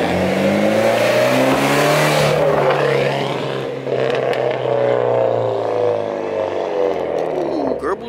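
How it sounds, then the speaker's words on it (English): Infiniti G35 with a muffler delete revving hard nearby, a loud raspy engine roar climbing and falling in pitch over several seconds, with a faint voice in the background. "I'm about to do a little rev right now for you guys, so y'all can hear what it sound like with the muffler delete."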